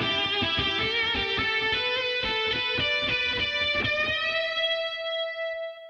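Electric guitar from the Shreddage 3 Telos virtual instrument plays a quick run of chords and notes, bathed in Galois reverb and Replica echoing delay, ending on a sustained ringing note that trails off.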